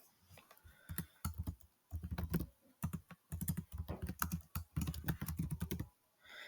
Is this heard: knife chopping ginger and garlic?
no